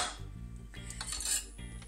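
A knife blade poked into butternut squash cooking in a pot, giving short close metallic clinks and taps against the pan over a low hum, with no talking.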